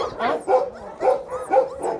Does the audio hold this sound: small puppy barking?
yes